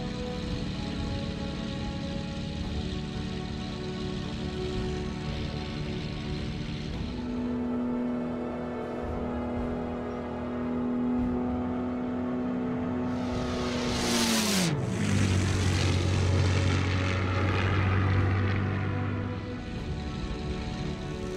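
A P-51D Mustang engine at maximum military power in a flight simulator game, a steady droning roar that holds for a long stretch, then its pitch sweeps sharply downward and settles lower.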